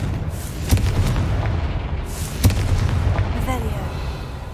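Confringo blasting spell from Hogwarts Legacy erupting in two heavy booms over a steady rumbling game backdrop, followed by a short rising magical whoosh.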